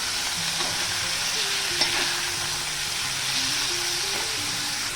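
Steady, loud sizzling of shrimp frying in hot oil, a continuous crackling hiss with no talking.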